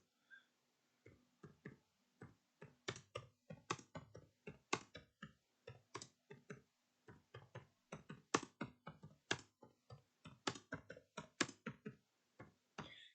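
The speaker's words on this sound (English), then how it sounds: "whenever I did all this typing" Quick bursts of keystrokes clatter on a keyboard, irregular clusters of sharp clicks with short pauses between runs, close and fairly quiet.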